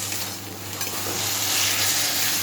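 Taro greens cooked with prawns being stirred in a pan, a close, even sizzle with soft scraping that swells slightly toward the end, no voices.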